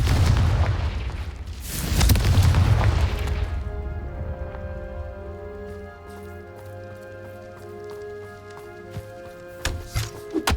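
A fire-blasting curse detonates in a Hogwarts Legacy wizard battle, a loud booming explosion with a roaring tail across the first few seconds, then quieter game ambience with a faint tonal hum and a few small pops.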